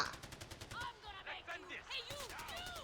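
Rapid automatic gunfire in the game Far Cry 4, a rhythmic string of sharp shots with whizzing, warbling effects over it, close and fairly loud, with a voice briefly under the shooting.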